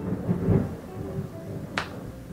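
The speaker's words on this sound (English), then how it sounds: "Did you hear that thunder?" Thunder rumbles low and steady over a quiet indoor room on a sunny day, with a brief sharp crackle near the end, heard alone without voices.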